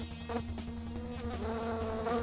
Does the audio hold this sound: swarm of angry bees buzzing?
yes